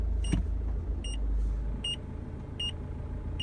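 Car seatbelt warning chime sounding inside a stopped car, four short electronic beeps repeating at a steady interval of roughly three quarters of a second over a low engine idle and cabin rumble.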